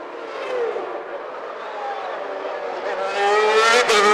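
Formula 1 race cars at the 1991 Italian Grand Prix scream past, high engine whine sweeping in pitch and swelling louder toward the end as one car overtakes another, with faint commentary underneath.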